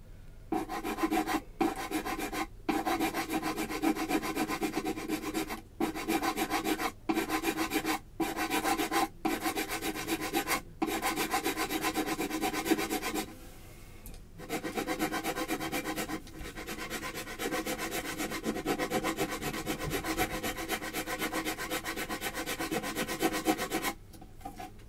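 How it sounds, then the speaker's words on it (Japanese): Wood on a ukulele being shaved and then sanded during a repair, giving a steady, close-up rasping scrape in long continuous strokes, broken by brief pauses, with no talking. "この一番右の方だけ削らないように他の部分を削っていくというような作業をしていきます"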